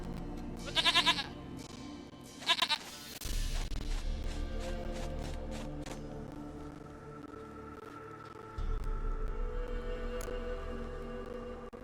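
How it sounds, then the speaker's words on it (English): Goat in The Witcher 3 bleating twice in short quavering bursts, then low rumbling game ambience and music carrying on without voices. "Goat of mine, dearest, sweetest goat."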